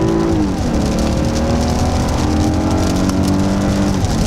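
A Lexus IS250C convertible in first gear under acceleration gives a steady, loud engine drone whose pitch climbs and shifts across a few seconds, heard from inside the car without talk.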